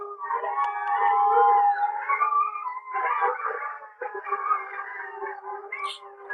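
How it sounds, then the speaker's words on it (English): Dogs in the background howling and yelping in drawn-out, overlapping tonal wails that rise and sag, continuous across the whole stretch with brief dips, moderately loud and slightly distant, no talk over them. "The dogs are barking in the background."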